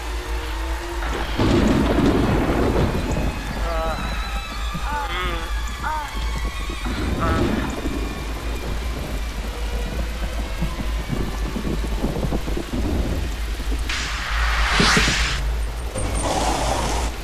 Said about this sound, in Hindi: ऐसी ही बारिश उस रात भी थी।